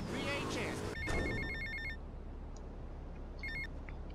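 A payphone rings in GTA Vice City, two bursts of electronic ringing in a steady pattern, the first over a speaking voice and background game sound, then a brief second burst near the end.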